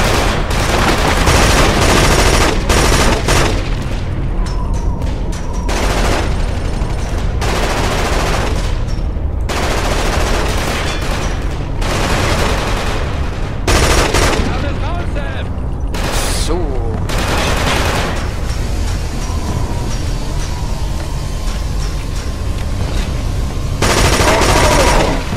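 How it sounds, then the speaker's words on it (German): A big cannon and heavy automatic gunfire from the video game Killzone 2 roar without pause, loud and dense, with bursts of rapid shots stacking over a constant booming din. "Ah, das ist die große Kanone."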